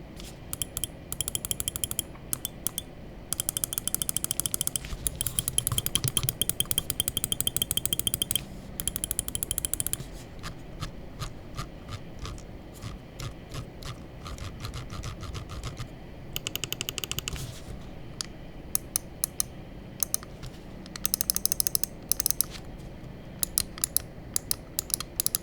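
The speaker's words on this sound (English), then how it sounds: "let's just go ahead and drop the click sound test" Clicks from the buttons of a Wlmouse Sword X computer mouse: rapid, sharp, close clicks in dense bursts and runs over a quiet background, with no talking.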